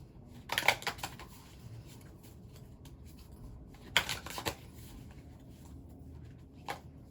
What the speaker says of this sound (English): I'm going to pull some more cards from the Work Your Light deck